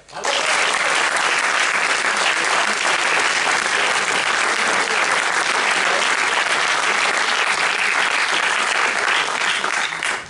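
A theatre audience applauds steadily and loudly after a stage performance of "Les Mutins de La Courtine", dense clapping filling the whole stretch without a break and without voices rising above it.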